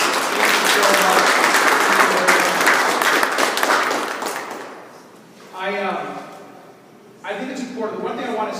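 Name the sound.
audience applause for the hosts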